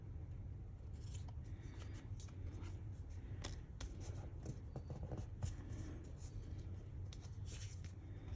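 Scissors snipping paper for craft tags and journal cards, a run of quick crisp cuts and light paper rustles close by over a steady low background hum, with no talking.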